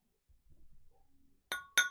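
Two bright, sharp glass clinks close together as glasses are raised in a toast, following a few soft low murmurs and rustles, the second clink slightly louder and ringing briefly.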